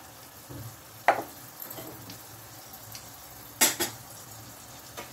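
Cumin seeds roast lightly in a pan, a soft dry sizzle broken by a few sharp scrapes and taps from stirring, close up and fairly quiet.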